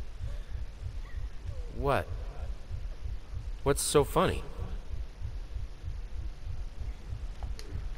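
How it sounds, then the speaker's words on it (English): A looping heartbeat effect in the horror game Layers of Fear, a steady low double thump repeating close and loud beneath the whole passage while a person talks briefly over it. "That whole heartbeat in my ear is kind of annoying."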